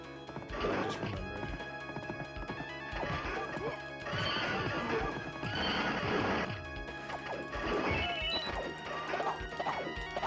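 Horse galloping and neighing in the Knights of the Round video game, repeated loud whinnies over clip-clopping hooves with crashing hits mixed in, under game music.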